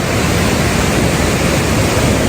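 Kong Kaew waterfall in Khao Yai, running strong in the rain, gives a steady, loud, broadband rush of falling water that fills the whole short stretch without a break.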